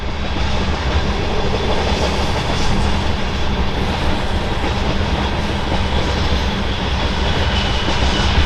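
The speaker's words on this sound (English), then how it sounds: "another loaded crude oil train" A long loaded crude oil freight train on the BNSF mainline in eastern Washington rumbles steadily past at close range, heavy and loud, with continuous rolling clatter from the wheels on the rails.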